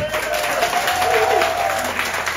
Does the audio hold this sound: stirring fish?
no